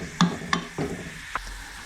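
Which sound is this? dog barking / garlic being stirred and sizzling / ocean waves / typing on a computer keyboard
garlic being stirred and sizzling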